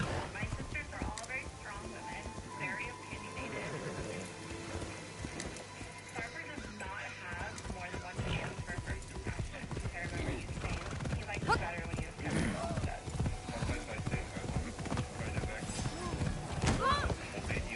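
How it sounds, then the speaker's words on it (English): Hooves clip-clop steadily as a horse is ridden, a busy rhythmic clatter with voices talking over it. "I like riding around on the horse."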